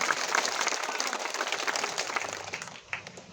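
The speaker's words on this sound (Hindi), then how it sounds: "अपने सब अपने ले लेके जोर से ताली बजा देवे" An audience at a Janmat Party speech applauds, a moderately loud wash of many hands clapping that fades toward the end.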